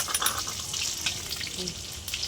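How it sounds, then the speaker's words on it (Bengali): Rui fish pieces fry in hot oil for a Bengali doi rui dish, producing a close, crackling sizzle with bursts of spitting pops over a short span, no speech. "তেলটা গরম হয়ে গেছে, মাছগুলো ভেজে নেব।"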